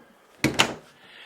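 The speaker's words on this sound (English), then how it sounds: "Pocket door." A pocket door in a bathroom of a multi-generational country house slides once with a short scraping rush and a quick second bump, close and fairly loud, in an otherwise quiet room.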